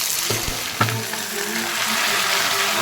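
Mixed vegetables, including potato, pumpkin, eggplant, pointed gourd and jackfruit seeds, hit hot oil in a wok after tempering spices, giving a loud steady sizzle with a few sharp clatters near the start.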